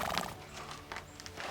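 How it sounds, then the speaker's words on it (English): A mistreated horse neighs and whinnies in a short, loud burst near at hand, with hoof clip-clops and faint stable noise beneath. "This horse has been mistreated."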